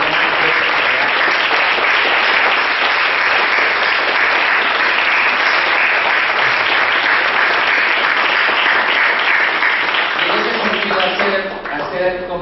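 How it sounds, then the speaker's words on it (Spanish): Loud, sustained audience applause at a forum on popular cultures fills most of the stretch, then tapers off as a speaker's voice returns near the end. "también pedirles un aplauso para ellos"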